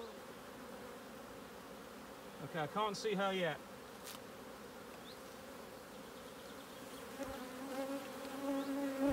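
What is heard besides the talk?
honeybees buzzing while flicked off frames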